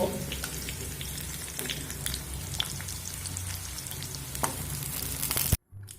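Potatoes sizzle steadily in hot oil over a medium flame while a utensil scrapes and lifts them out, with a dense crackling hiss throughout that cuts off abruptly near the end.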